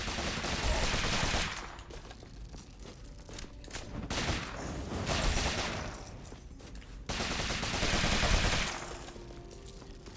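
Rapid bursts of shooting in the video game Rogue Legacy 2, rattling volleys that come in waves of a couple of seconds each, separated by brief lulls, moderately loud.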